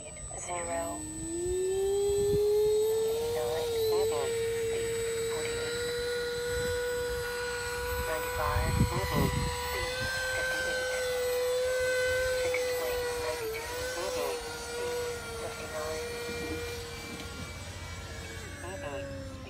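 A V-22 tiltrotor aircraft lifts off and transitions into forward flight, its engines making a steady, loud, sustained tonal drone that shifts slightly in pitch, with someone talking over it at times.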